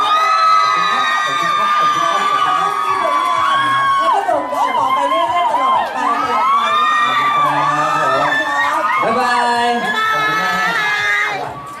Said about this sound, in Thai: ปรบมือดังๆขอเสียงกรี๊ด